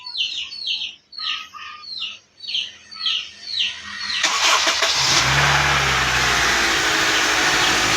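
Honda CR-V engine cranks and catches about halfway through, then settles into a loud, steady idle with a slight rev. Birds chirp repeatedly in the quiet before the start.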